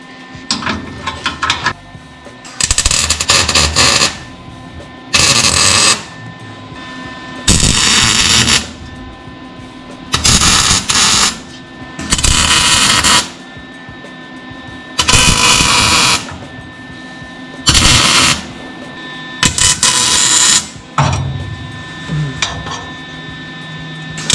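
A stick welder tacks metal parts into place in a home garage. There are about nine loud, crackling arc bursts, each lasting a second or two, separated by short quiet pauses.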